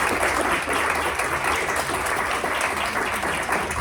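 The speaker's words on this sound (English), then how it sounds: "Maybe we can give them a short applause." Sustained applause from a workshop audience, steady dense clapping that fills the room at an even level for a few seconds after a panel of speakers, with no talking over it.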